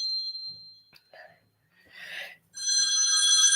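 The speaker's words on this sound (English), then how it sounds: "my phone's ringing" A mobile phone rings in a quiet room with a steady electronic tone, pauses while someone murmurs softly, then rings again more loudly with layered chiming tones.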